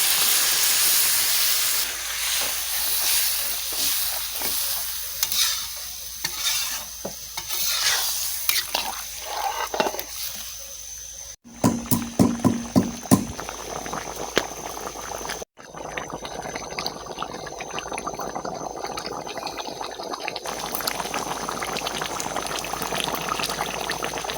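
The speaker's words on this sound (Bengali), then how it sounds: "জল ঢেলে দিচ্ছি" Water is poured into a hot pot of chilli powder and spices for biryani, hissing and bubbling into a steady boil with stirring scrapes, broken by two abrupt cuts.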